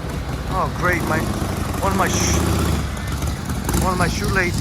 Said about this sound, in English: that noisy motorcycle